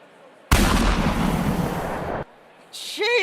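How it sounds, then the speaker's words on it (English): A loud gunshot sound effect in the Snoot Game mod video game bursts out as a sustained, booming blast lasting nearly two seconds, followed by quieter game sounds and a short rising tone. "I thought there was a gunshot sound effect."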